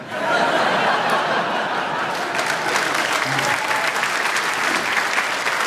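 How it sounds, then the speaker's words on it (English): A live stand-up comedy audience bursts into sustained clapping after a joke, dense and steady throughout, with scattered chuckles and laughter mixed in. "You can clap, ladies and gentlemen."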